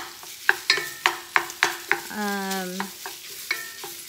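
Sausage browning in a pan gives a soft steady sizzle, repeatedly punctuated by sharp scraping clacks of a utensil stirring it, close and fairly quiet.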